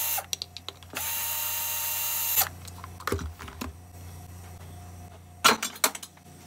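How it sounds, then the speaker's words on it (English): Bolts coming out of the valve plate on a push mower being torn down for scrap, with short mechanical ratchet-like bursts and tool whirs spaced across the stretch, close by and without talk. "Got a couple of 3/8 bolts to remove off this valve plate."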